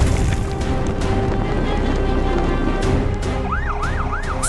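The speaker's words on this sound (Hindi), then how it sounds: "सायरन की गूंज शांत हवाओं को चिरती हुई आगे बढ़ती है।" Emergency vehicle sirens wail from a red fire engine and a blue police car heading out to a forest fire, a loud continuous roar of engine and rushing noise with a rising, falling siren whoop repeating near the end.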